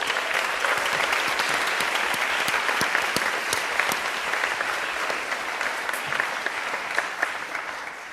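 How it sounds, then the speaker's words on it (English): Sustained, dense applause from a large audience at a panel event on mass incarceration and reproductive justice, steady and full throughout with a few sharper individual claps standing out. "Can we give them a round of applause?"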